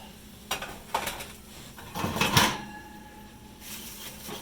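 A few metallic clanks and scrapes of baking pans sliding and knocking on oven racks, close and moderately loud, then a quiet hum.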